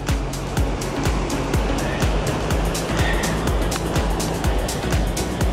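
Steady roar of rushing water in Tahquitz Canyon, Palm Springs, a dense continuous wash that fills the whole clip, with faint rumbles and ticks mixed in and no voices.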